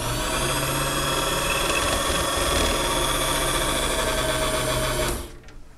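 A Beseler 45M 4x5 motorized photographic enlarger's electric motor runs in a steady, even whine with a constant hum, close and alone, then switches off near the end.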